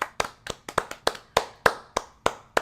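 Sharp, close hand claps in a slow, slightly uneven rhythm, about a dozen distinct smacks with no talking.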